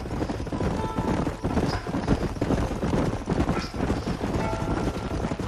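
Several horses' hooves clip-clop steadily in the Red Dead Redemption video game, a continuous close trotting patter with occasional soft snorts, running unbroken for the whole stretch.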